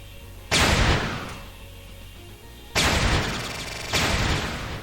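Defense bots in the video game Entropia Universe fire loud gun blasts, three heavy booming volleys spaced a second or two apart, each with a sustained roaring tail, close and dominant.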